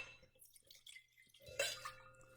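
2018 J Wilkes Santa Maria Valley Chardonnay white wine is poured into a glass, with soft, close trickling and dripping that swells into a brief brighter splash near the end.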